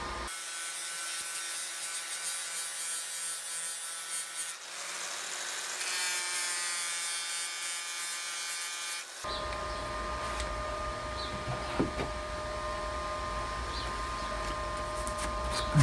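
Puddle welding a drill press bracket clamped in a vise produces a steady, continuous electric buzz with a crackling hiss that shifts in tone partway through and carries on without pause.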